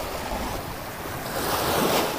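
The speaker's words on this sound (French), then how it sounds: "Il y a les petites vagues qui sont là." Small waves wash steadily along a Mediterranean shore in the south of France, a continuous close surf hiss with light wind noise and no voices.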